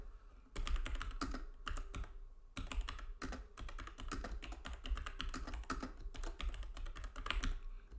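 Steady rapid typing on a computer keyboard while entering website text in WordPress, dense close clicking runs with a few brief breaks, nobody speaking.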